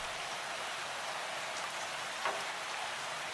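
Steady, dense rainfall hissing evenly throughout, a heavy downpour over gaur in Jaldapara National Park, with no voices.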